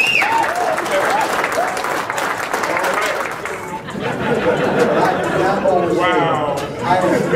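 A sales-meeting audience claps to vote for group A, a continuous wash of applause with cheering voices and crowd chatter woven through it.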